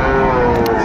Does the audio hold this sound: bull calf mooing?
yes